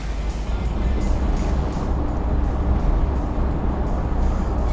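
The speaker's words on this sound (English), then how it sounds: "This is the typical engine sound in these cars." A 1987 Bentley Continental Drophead's engine runs steadily at close range, a continuous low rumble with no breaks and no talking.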